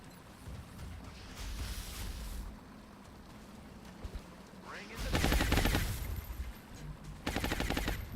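Suppressive gunfire in XCOM, two bursts of rapid automatic shots, the first long and loud, the second shorter, set against quieter game ambience.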